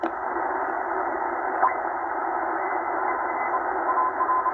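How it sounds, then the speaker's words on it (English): A shortwave receiver tuned to the 20 meter amateur band gives off a steady hiss of band noise, with a faint continuous tone and a thin Morse signal buried in it, no talk. "I'm sure there's going to be some Morse code somewhere."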